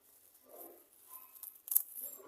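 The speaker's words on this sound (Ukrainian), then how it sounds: "теж я обрізаю" Hand shears pruning lavender and spirea branches outdoors give one sharp, close snip, with soft rustling of foliage before and after. The whole sound is quiet and brief.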